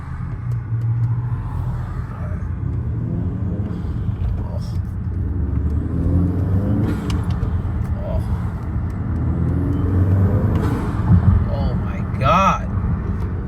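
A 2019 Honda Accord 2.0T with an Injen air intake accelerating from inside the cabin, a steady low engine rumble that swells slightly, with a brief sharp sound near the end.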